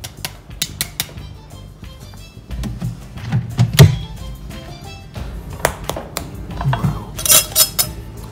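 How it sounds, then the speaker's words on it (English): Crispy pork belly lifted out of a cooking pot, with repeated metallic clinks, taps and thunks of utensils against the pot, scattered and fairly close, plus a bright clatter near the end. "After 45 minutes, remove our pork belly."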